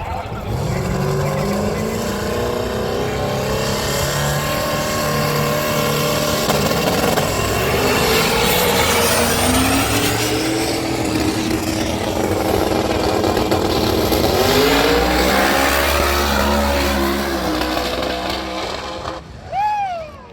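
A loud race car engine, an 800 whp LS-powered Mustang, roars continuously, its pitch climbing and falling as it revs and accelerates, with a brief high whine near the end.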